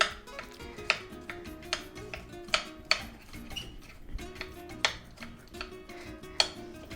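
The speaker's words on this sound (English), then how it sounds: "So we're gonna go ahead and chop them up a little bit more." A knife chopping onions on a cutting board in a home kitchen, sharp irregular thunks roughly every half second, close and clear, with faint kitchen background and no talk.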